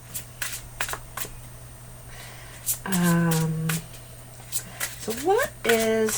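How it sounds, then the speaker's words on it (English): Celtic Tarot cards being shuffled and handled, with several quick riffling bursts and soft flicks separated by short pauses, close and clear. "I'm still going to pull some cards from the Celtic Tarot"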